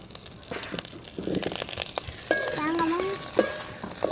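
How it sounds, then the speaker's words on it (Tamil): Curry leaves crackle and pop in hot oil while a spoon scrapes and stirs the pan, with scattered sharp pops and a steadier sizzle building toward the end, close and moderately loud. "கருவேப்பிலை நல்லா பொரிஞ்சு வந்துடுச்சு"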